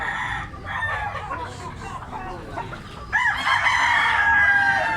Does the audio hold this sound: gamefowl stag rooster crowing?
yes